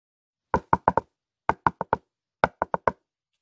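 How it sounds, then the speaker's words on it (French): Hoof sound effect of the Minotaur approaching: three quick bursts of four sharp, hollow clops each, close and distinct, separated by short silences. "Soudain, un bruit de sabots retentit."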